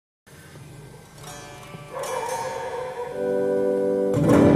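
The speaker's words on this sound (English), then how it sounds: "And this is with distortion effect." An electric guitar runs through a DIY preamp with its distortion effect on, giving sustained, buzzing chords that swell louder in steps and ring on, alone without talk.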